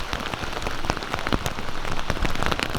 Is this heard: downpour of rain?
yes